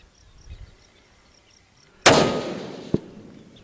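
During a hunt, one sharp, loud gunshot cracks out and rings into a decaying echo. A second, smaller bang follows about a second later.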